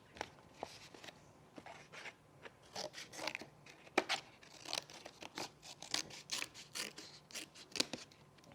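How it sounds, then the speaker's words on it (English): Scissors snip repeatedly through cardboard from a paper towel roll, a close, crisp series of irregular cuts and crunches with brief pauses between strokes, no talking. "Now I gotta cut down the edges."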